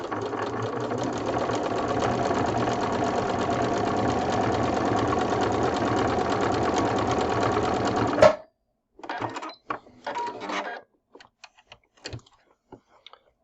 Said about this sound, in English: So we're going to sew a line